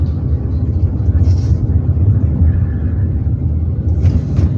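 Steady, loud car engine drone and road rumble heard from inside while the driver works clutch and throttle climbing a hill in first gear, constant and close, with a voice talking over it.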